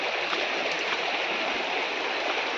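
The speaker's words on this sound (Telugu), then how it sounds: "నీటి ప్రవాహం అంతా కూడా మనకి వాటర్ ఫాల్ నుంచి వస్తుంది" A stream flowing down from the Katkapur waterfall at Vennamuddala Gandi in Raikal mandal, heard as a steady, dense rush of water that stays close and even throughout, with no voices.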